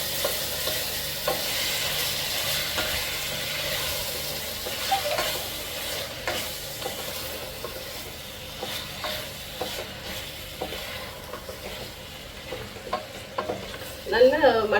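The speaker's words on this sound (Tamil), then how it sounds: "நல்லா மட்டன் வந்து நல்லா சுருள வதக்கிக்கோங்க." Mutton sautés in a hot pan for a dhaba-style Punjabi curry. A steady, moderate sizzle carries on throughout, broken by scraping stirs and a sharper flare of frying at the end.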